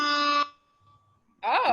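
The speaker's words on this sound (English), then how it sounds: "I got alarms and bells." Electronic alarm and bell sound effects: a loud steady buzzing tone cuts off abruptly, then after a near-silent pause a second wavering, warbling alarm tone bursts in just as loud.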